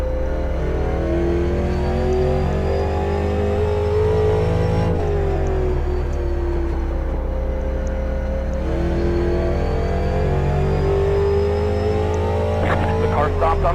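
Race car engines in an iRacing rookie race, a video game, hold a steady, loud, harmonic drone that rises and falls with gear and speed changes throughout, with someone talking over it.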